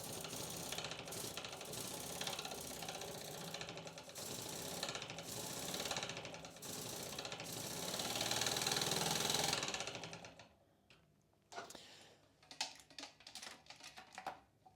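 A small homemade model steam engine with a flywheel runs steadily, its quick rhythmic mechanical clatter loud and close for about ten seconds before cutting off, leaving a few scattered clicks and knocks.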